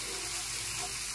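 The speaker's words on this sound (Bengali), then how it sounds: "এখন 2 মিনিট মশলাটাকে ভালো করে কষিয়ে নিতে হবে।" Masala paste with turmeric and green chilli paste sautés in a pan for chicken kosha, a soft steady sizzle at low level, brief and close with no voices.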